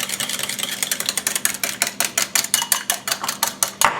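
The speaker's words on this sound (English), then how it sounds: "we're going to take our whisk and we're going to whisk those little egg yellows" A wire whisk beats egg yolks in a bowl for pineapple upside-down cake batter. It makes fast, regular clinking strokes against the bowl, close and steady, with no talking.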